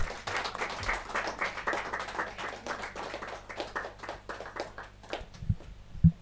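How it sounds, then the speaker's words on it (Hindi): Loud applause from an audience at a Hindi poetry gathering, a kavi sammelan, with dense clapping sustained throughout and a couple of sharper claps near the end. "जोरदार तालियों के साथ"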